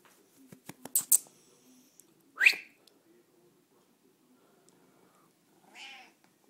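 A kitten gives two or three short, high meows, a clear one in the middle and a softer one near the end, with a few small clicks and rustles in a quiet room.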